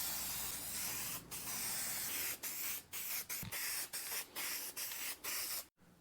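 Wet coats of paint hiss from a spray gun onto a car part in bursts, each long pass of steady spraying broken by short pauses, close and continuous.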